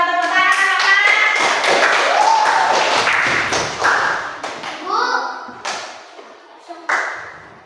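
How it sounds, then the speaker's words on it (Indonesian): Several people clap in a brief burst after a group representative is introduced at a school event, with a voice and taps in between; the clapping fades and someone starts talking. "Tepuk tangan."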